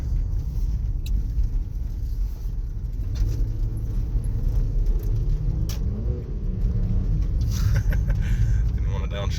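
Porsche Cayenne being driven, heard from inside as a steady low road and engine rumble with faint rattles, while someone talks over it.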